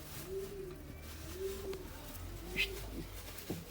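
Pigeons cooing nearby in a loft, a soft repeated low coo rising and falling several times, fairly quiet against a faint background.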